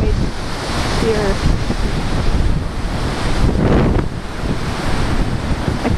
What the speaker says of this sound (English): Big waves on the lake.